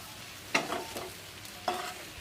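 Fish roe fritters frying in hot oil, with a steady low sizzle broken by two sharper bursts of stirring or turning in the pan, close and alone without talk.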